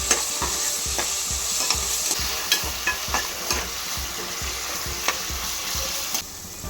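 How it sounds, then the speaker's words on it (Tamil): Sliced onions and a green chilli frying with a little salt in a pan: a steady sizzle under repeated scraping, stirring strokes of a spoon, close and continuous. "வெங்காயம் வதங்கிறதுக்காக கொஞ்சமாக உப்பு போட்டு ஃப்ரை பண்ணுங்க."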